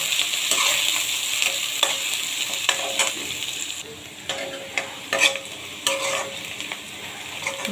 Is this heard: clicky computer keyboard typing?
no